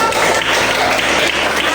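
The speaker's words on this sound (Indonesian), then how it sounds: "Tepuk tangan untuk" Classroom applause, a loud, dense burst of many hands clapping together from a nearby group, steady throughout the short stretch, with voices mixed in underneath.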